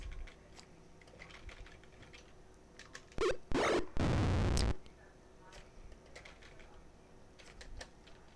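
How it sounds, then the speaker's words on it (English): Buck Rogers retro computer game combat in the old Pool of Radiance style: sparse clicking ticks, then a short burst of loud harsh digital blasts and a buzzing noise blare, followed by more quiet ticks. "It's got the old Pool of Radiance sound effects"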